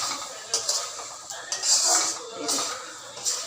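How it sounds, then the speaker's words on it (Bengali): A spice paste of ground cumin, onion, garam masala, chili and turmeric fries for a prawn curry, hissing in a pan while a utensil scrapes and stirs in uneven strokes close by. "মশলা কষা চলছে।"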